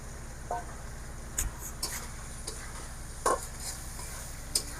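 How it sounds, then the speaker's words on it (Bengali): Taki and koi fish, caught from a wetland, are sautéed with spices in a pan. A faint, steady sizzle runs under a low hum, with occasional soft scrapes and clinks of stirring. "মশলার সাথে মাছ একটু কষিয়ে নেব।"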